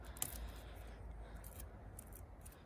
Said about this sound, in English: I'm gonna have to trim off.